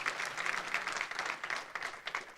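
A church congregation applauds during a worship service, soft, somewhat distant clapping from many hands, steady and even over a couple of seconds.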